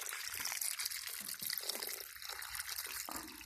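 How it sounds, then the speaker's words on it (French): Water is poured into a tilapia fish tank to top it up: a steady, close trickle and splash, fairly quiet and continuous with no voices. "Donc là, j'ai juste à mettre de l'eau"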